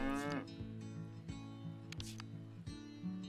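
A cow in the farming video game Kynseed gives a long, deep, close moo that fills the whole moment, with faint game sounds around it.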